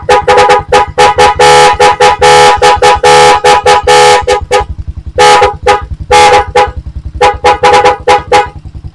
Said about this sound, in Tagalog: Habang nakadiin yung busina,